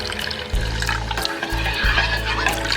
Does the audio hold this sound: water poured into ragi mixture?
yes